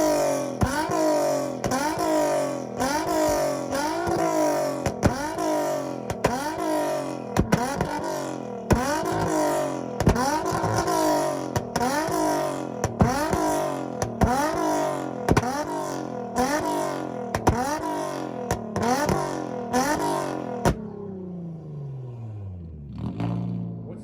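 A Nissan Z car engine at a rev battle is revved again and again in quick rhythmic bursts, each pop rising and dropping, loud and close for about twenty seconds before it cuts off and winds down.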